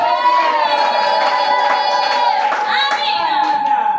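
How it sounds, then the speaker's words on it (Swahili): A church congregation claps steadily and loudly in unison, with voices shouting and singing over the rhythmic applause throughout. "Pigie makofi baba mzee wa Yesu."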